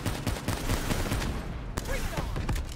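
Turret gunfire in Black Ops 3's campaign, a dense and continuous rattle of rapid shots that stays loud throughout the short stretch, with a few sharper cracks standing out.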